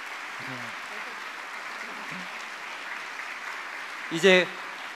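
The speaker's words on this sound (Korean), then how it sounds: "큰 박수로 격려해 주시고 축복해 주시길 바랍니다." A church congregation's steady applause continues at a moderate level during an early-morning revival service, with brief voices and a short louder vocal burst near the end.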